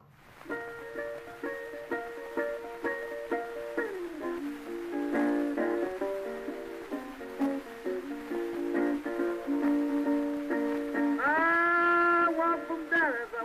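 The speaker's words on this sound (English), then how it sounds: "I know the recording's old and scratchy," A scratchy 1926 blues recording, with a wavering sung melody over guitar, steady and moderately loud, thin and noisy like an old 78 disc.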